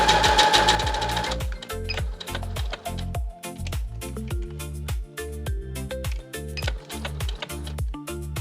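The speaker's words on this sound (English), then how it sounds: "Fold the bow section in half and sew across the top, leaving a small gap." A sewing machine stitches across a folded fabric bow section for a tote bag, a fast run of stitching followed by a rapid, even mechanical chatter with short pauses, close and clear with no voices.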